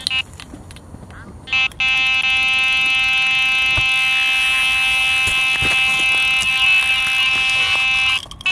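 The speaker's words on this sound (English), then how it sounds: "if one of those buzzers goes off" A carp fishing bite alarm buzzer at a syndicate lake sounds loudly, with a brief chirp and then a continuous high-pitched electronic tone for most of the clip.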